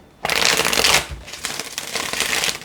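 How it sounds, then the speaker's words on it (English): A deck of tarot cards is shuffled close up in two quick, crisp riffling bursts, loud and papery with a brief pause between them. "one last shuffle here"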